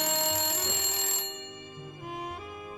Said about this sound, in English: all of a sudden the phone rang.